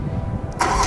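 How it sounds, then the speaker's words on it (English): A 2022 BMW X3 M engine starts up: a low rumble gives way to a sudden loud starter-and-catch burst near the end, close and strong. "this will just be a general startup of the car"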